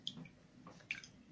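A cloth dunked in cold water for a compress, giving a few faint drips and wet squishes, quiet and close, with two brief sharper splashy touches.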